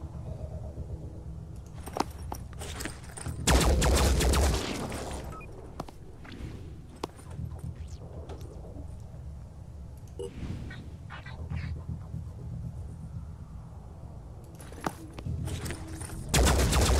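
Gunfire in the tactical game Phoenix Point: a loud burst of shots near the start, more scattered reports and thuds through the middle, and another heavy volley at the end, with no talking.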